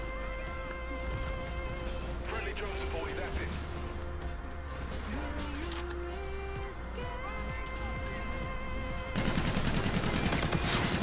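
Rapid bursts of automatic gunfire from a first-person shooter match in Call of Duty: Infinite Warfare, loud and continuous over layered game effects and a music bed, with a voice talking throughout.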